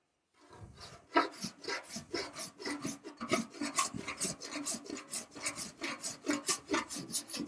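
Rhythmic rasping strokes of a file working lead body solder on a car body panel, steady back-and-forth scraping that starts from silence and continues close and even throughout.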